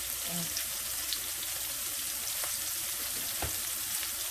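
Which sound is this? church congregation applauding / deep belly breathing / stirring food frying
stirring food frying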